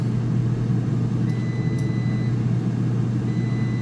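A Cosori 9-quart dual-basket air fryer gives a subdued finishing beep, a couple of brief faint tones over its steady low fan hum.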